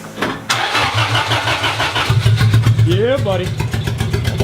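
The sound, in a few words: 3SGE BEAMS engine in Lexus IS300 starting for first time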